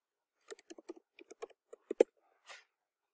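Keystrokes on a computer keyboard as an email address and password are entered, about a dozen separate clicks in an uneven rhythm, close and clear, ending with a heavier key press and a brief soft rustle.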